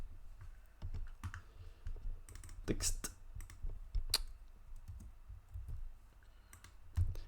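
Computer keyboard being typed on with a microphone cable lying across it; irregular bursts of sharp clicks, close and fairly quiet, with a voice briefly speaking.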